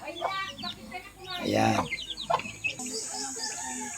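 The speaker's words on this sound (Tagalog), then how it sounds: "May mga alaga silang manok." Backyard chickens cluck and squawk nearby in short bursts, with one louder cackle in the middle, while someone speaks briefly over them.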